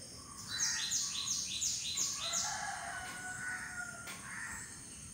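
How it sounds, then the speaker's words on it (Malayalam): Birds calling at daybreak, led by a rooster's repeated crowing, with steady rhythmic chirps and brief whistled calls over a low background hum, moderately near and continuous with no talking. "നേരം വെളുത്ത് വരുന്ന ഈ സമയത്ത് പക്ഷികളുടെ സൗണ്ടൊക്കെ കേൾക്കുവാനായിട്ട് ഭയങ്കര രസമാണ്"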